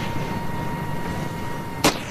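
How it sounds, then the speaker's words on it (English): Gunfire in the Ravenfield video game: a single loud, sharp shot bursts out near the end, standing out from a steady background of game ambience and hum. "I hear gunfire"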